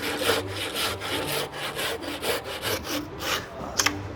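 A hand saw rasps rhythmically through timber, cutting tenon shoulders for a mortise and tenon joint, with quick back-and-forth strokes at close range and no talking.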